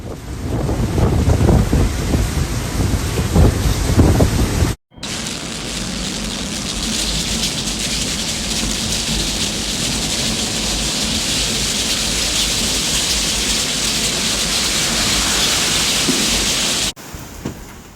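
Typhoon Danas lashes Fujian in July 2025 with winds near 100 km/h and heavy rain. A loud, continuous roar of wind and downpour fills the whole stretch, broken by one brief cut, with no voices.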